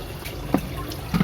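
Water draining through a tap from a bucket pond used to raise catfish: a close, gurgling trickle with small splashes and drips, steady and without speech.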